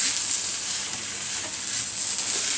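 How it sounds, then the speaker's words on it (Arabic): Freekeh frying in ghee with spices in a pan, giving a steady, close sizzle and crackle that runs on continuously without any talking. "وبعد ما تسمعي الصوت اللي انت سامعاه الطشطشه ده كده"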